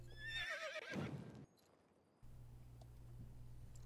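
Welsh pony in a video game gives a loud whinny followed by soft hoof sounds, over a steady low background hum that drops out briefly mid-clip.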